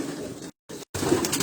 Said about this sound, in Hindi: ये सारे उस्ताद अब्दुल बासित के वो पट्टी वाले कबूतर हैं